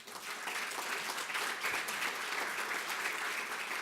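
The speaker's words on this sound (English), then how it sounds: "Give these guys a round of applause." An audience claps in sustained, even applause at a political gathering, a dense crowd patter that holds steady throughout without speech.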